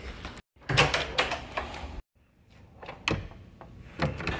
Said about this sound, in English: make sure the door is fully shut